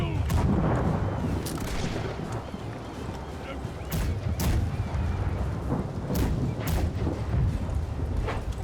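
Ship cannons firing in a video game, a series of sharp booming shots scattered irregularly over a dense, noisy battle background with voices talking.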